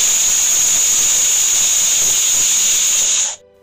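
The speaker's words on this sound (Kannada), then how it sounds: "ಈಗ 1 ವಿಷಲ್ ಕೂಗಿದೆ." A pressure cooker on the stove, cooking a sprouted horse gram curry, lets out one long loud steady steam whistle that holds for about three seconds and then cuts off abruptly.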